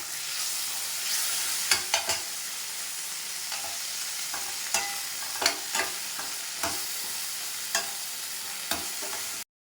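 Ginger, tomato and curry leaves sauté in a hot pan, a constant close sizzle broken by repeated scraping clicks of a spatula stirring, with no voices.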